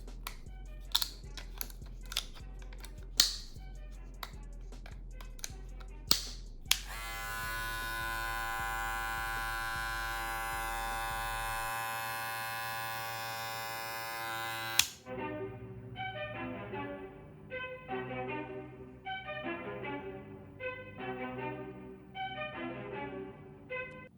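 A Babyliss LO-PRO hair clipper: a few clicks and taps, then a steady high-pitched electric motor buzz running several seconds, followed by a lower pulsing whir as the blade moves.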